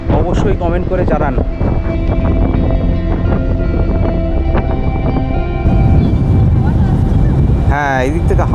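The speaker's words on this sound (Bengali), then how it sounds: "এই দিক থেকে হাওয়াটা আসছে, বেশ ভালো লাগছে।" Sea breeze on Dublagari beach in Odisha at sunrise roars steadily and loudly against the microphone, a constant rushing layer with voices or tonal sounds running over it throughout.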